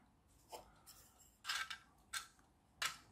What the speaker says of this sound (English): that's the frame, which I might need to trim just a little bit to make it fit